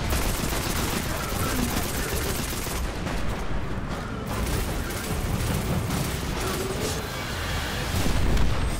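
Dense, continuous barrage of loud rocket explosions and gunfire-like blasts in Destiny 2, overlapping without pause, building toward the end, with voices faintly mixed in.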